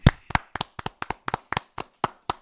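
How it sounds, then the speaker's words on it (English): A small group of about twenty-five people claps at a live Made in Ohio event in Ashtabula County, sharp separate claps in a loose, uneven rhythm, close and distinct with quiet gaps between them, brief and alone. "Give them a round of applause"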